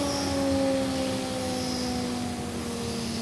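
A fidget spinner spins very fast, giving a steady, loud whirring drone with sustained tonal hum like a distant jet, continuous with no talk.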